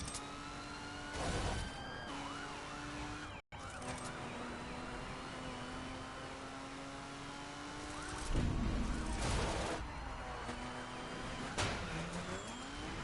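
Car engine revving and skidding on icy roads in a PS4 driving game, with rising and falling engine pitch, tire squeals and several sharp bursts of noise, loud and close throughout.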